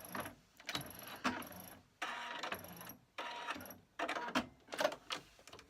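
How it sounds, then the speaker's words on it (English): A Singer 8500Q sewing machine stitches a decorative Greek key pattern in repeated mechanical bursts of rapid whirring and clatter separated by short pauses, close and clear. "You can see how easily the machine is running."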